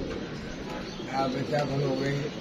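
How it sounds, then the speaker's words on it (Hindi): Homing pigeons flown out in the morning come back overhead, with soft cooing mixed into steady outdoor background and people talking over it. "सुबह जो हमने कबूतर उड़ाए हैं ना, उनमें से जो कबूतर ऊपर गए थे वो अब आ रहे हैं"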